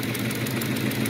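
Engine of a 1976 Dodge RV running at a steady idle, a continuous low rumble with an even, slightly pulsing hum and no talk over it.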